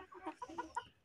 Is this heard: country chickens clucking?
yes